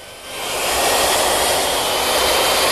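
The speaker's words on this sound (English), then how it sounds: "I simply plunge the router in at the beginning of the layout and remove it at the end." A plunge router fitted with a half-inch straight bit cuts a groove in wood, giving a loud, steady high-pitched whine that rises as the bit engages and then holds constant and close.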